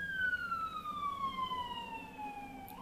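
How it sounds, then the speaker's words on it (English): A passing emergency siren wails as a clear descending tone with harmonics, gliding steadily lower over nearly three seconds and fairly prominent above a faint background hum. "Oh, siren."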